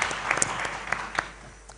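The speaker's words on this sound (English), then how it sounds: "Please give a round of applause to Professor Shalita." A burst of clapping from an audience, scattered claps rising and then thinning out over a couple of seconds.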